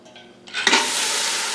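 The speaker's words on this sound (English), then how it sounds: "That's the kind of sizzle you want to hear." Dals hit a pan of hot spices and burst into a sudden loud sizzle that holds steady and close after a brief quiet moment of stirring.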